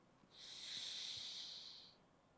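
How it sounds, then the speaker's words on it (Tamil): A single slow, steady breath drawn in through one nostril during alternate-nostril yoga breathing, a soft airy hiss lasting about a second and a half, close and quiet, with no talk. "இந்த நாசியின் வழியாக மெதுவாக காற்று எடுக்கணும்"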